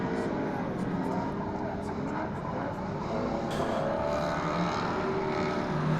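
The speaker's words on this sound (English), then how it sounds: "Peterson trying to give Schumacher the hurry up on the entry to the corner." Stock cars race around a track at a night event, their engines giving a continuous loud, dense roar with changing pitch as the cars battle, and a commentator talks over it.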